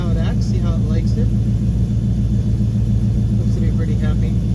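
A Coyote-swapped Ford Fairmont Foxbody running more turbo boost gives a loud, continuous, close-up engine rumble with a steady, throbbing low pulse throughout.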